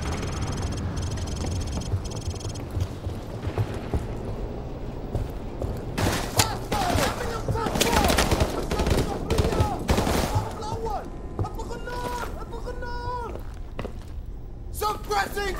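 Gunfire in Call of Duty 4 Modern Warfare Remastered: repeated rapid bursts and fusillades crackle throughout, mixed with voices talking over the combat din.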